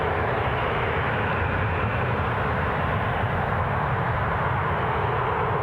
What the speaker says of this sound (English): First departure of the day. On Geneva bound flight.